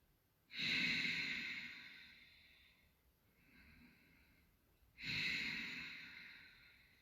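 Slow, audible exhalations during a yoga session as a held pose is released, with two strong breaths out separated by a softer one, close and unaccompanied.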